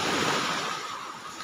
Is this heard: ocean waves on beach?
yes